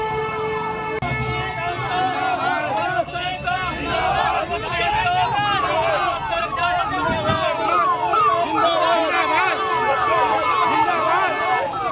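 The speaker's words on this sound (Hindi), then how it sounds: "कैसे समर्थक नारेबाजी कर रहे हैं" Supporters chant slogans in a loud, dense crowd as a police vehicle drives off with an arrested man in Sambhal, India; the shouting is steady and continuous with a wailing tone over it.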